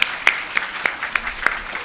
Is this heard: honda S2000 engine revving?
no